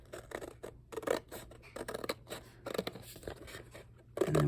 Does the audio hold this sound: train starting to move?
no